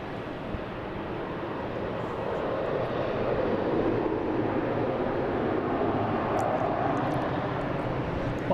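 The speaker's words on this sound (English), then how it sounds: "I think that's the British Airways. That was pretty loud." A British Airways airliner passes loudly at Boston Logan International Airport, its jet engines producing a steady, broad roar that holds strong and even throughout with no voices.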